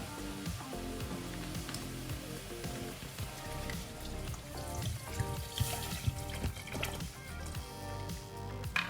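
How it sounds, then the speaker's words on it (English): About a litre of water pours into a pan of prawn spaghetti sauce, a continuous splashing trickle with light sizzling that runs steadily and picks up toward the end. "And now I'm going to add about 1 litre of water."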